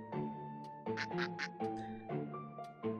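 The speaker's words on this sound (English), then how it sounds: "What a weird duck!" A duck quacking in the indie horror video game Endora's Box, a run of about five nasal, buzzy quacks in an irregular rhythm, clear and alone.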